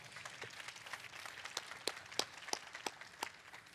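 An event audience gives a round of applause, faint and scattered, with individual claps popping out irregularly over a quiet room.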